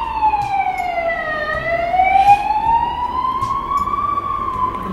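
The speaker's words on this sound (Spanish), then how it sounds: "esperar que pase la policía, ambulancia" A police car or ambulance siren passes outside an open window, its wailing tone sweeping down and back up, fairly loud over a low traffic rumble with no talking.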